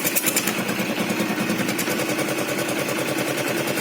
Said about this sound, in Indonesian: Ini setelah saya tutup knalpotnya nih.